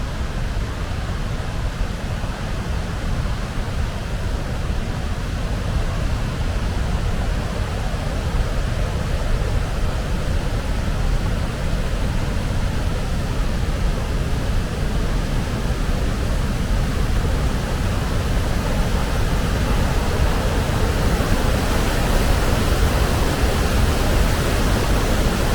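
A large waterfall in Sweden, close beside a campsite, roars as a loud, steady, broadband rush throughout, with no voices.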